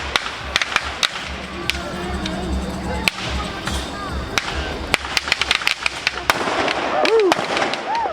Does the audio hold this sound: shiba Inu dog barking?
no